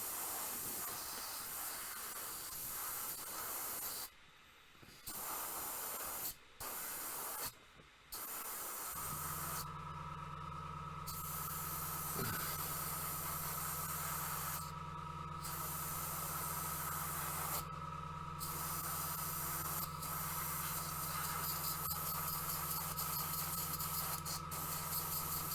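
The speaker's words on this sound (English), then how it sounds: "And we're just going to spray it on everything." Vallejo matte acrylic varnish sprayed onto a painted miniature: long steady aerosol hiss with several short breaks early on, then a continuous spray carrying a low steady hum.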